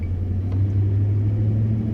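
Pickup truck engine idling, a steady low hum and rumble close by, even and continuous throughout.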